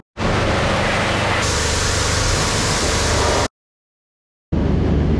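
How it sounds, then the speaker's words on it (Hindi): A steady, loud hiss of water spraying while a Hero Xpulse 200 motorcycle is washed runs continuously, stops briefly, then resumes with the same broadband rush. "तो अभी पहले बाइक वॉश करवाते हैं"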